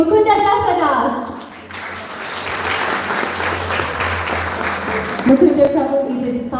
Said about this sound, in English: Let's give a round of applause for His Grace Mukunda Das.